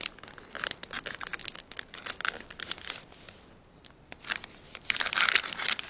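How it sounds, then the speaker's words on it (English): Plastic food bag handled and zipped shut: close, busy crinkling and rustling of plastic with small snapping bursts, loudest near the end, no voice. "Zip it up."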